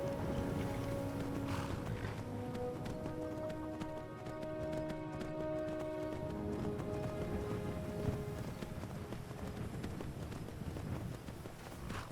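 Horses' hooves clip-clop in a fast, steady galloping rhythm throughout in the modded video game Skyrim Special Edition, with several horses moving at different speeds, layered over ambient game music at moderate, even loudness.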